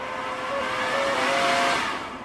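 Ryobi P-2180 cordless jet fan leaf blower at full throttle, a loud steady rushing whoosh that swells slightly and then eases off over a couple of seconds, with no voice over it.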